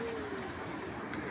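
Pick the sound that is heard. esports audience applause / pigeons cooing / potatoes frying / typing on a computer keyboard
pigeons cooing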